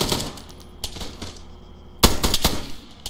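Gunfire in a military shooter game: bursts of shots, a quieter scattered volley early on, then a loud rapid cluster of close reports near the end, with no talking.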